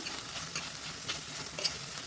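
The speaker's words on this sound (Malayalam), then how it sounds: "ഇഞ്ചിയും പച്ചമുളകൊക്കെ ഒന്ന് തട്ടിക്കൊടുത്ത് നമുക്കൊന്നത് ഇളക്കി കൊടുക്കാം." Ginger and green chillies being stirred in a frying pan during home cooking, a steady soft sizzle broken by light scraping stirs at an irregular rhythm, close and alone with no talk.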